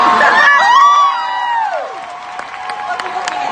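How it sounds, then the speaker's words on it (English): A keynote audience at the Scentsy Family Reunion in Austin cheers the men in the room: loud, close crowd cheering with high whoops and squeals swelling at first, then settling into sustained applause and chatter. "Oh, we're cheering the men."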